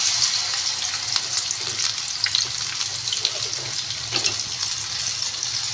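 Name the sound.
pakoras frying in oil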